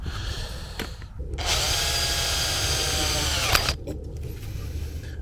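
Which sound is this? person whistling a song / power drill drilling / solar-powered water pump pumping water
power drill drilling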